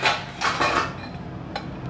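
Metal clatter from a lid being set over a cooking pot in a home kitchen: a couple of quick clanks followed by a lighter tap, close and fairly loud.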